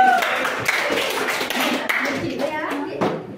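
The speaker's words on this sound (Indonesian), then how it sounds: "Makanya tadi mungkin boleh lagi tepuk tangan." Hands clapping in a classroom during a teaching practice lesson, a brief scattered round of claps mixed with children's voices and some tapping, with talk over it.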